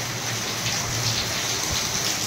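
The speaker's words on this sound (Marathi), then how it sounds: "लई जबरदस्त पाऊस आलाय मित्रांनो." Heavy rain pours steadily in a dense, continuous hiss with no pauses, close and loud throughout.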